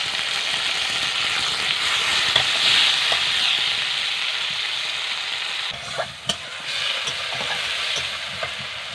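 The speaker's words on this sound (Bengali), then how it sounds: "টমেটো দিয়ে একটু নেড়ে চেড়ে নিয়েছি" Tomatoes stirred into onions fried until red in a pan, giving a steady bright sizzle throughout with occasional scrapes and taps of a spoon against the pan, with no talking.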